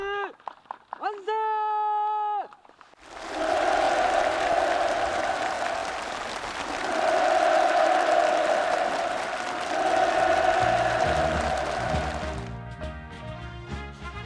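Enthusiastic applause from participants at a housing move-in ceremony at Chongun Farm in Songrim City. It is a dense, steady clapping crowd lasting about nine seconds, with talk and a musical tone before it and music after.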